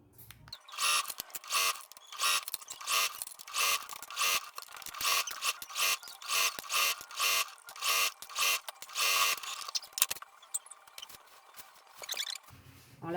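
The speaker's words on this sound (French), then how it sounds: "Maintenant, on va coudre tout le tour." Sewing machine stitching all the way around a reversible balaclava with a ribbed band, running in rapid regular bursts with short pauses between them, close and loud, then stopping near the end.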